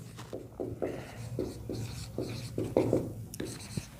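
Pen scratching on paper or a board during a maths lesson, a quick run of short rhythmic strokes close to the microphone while a voice speaks quietly underneath.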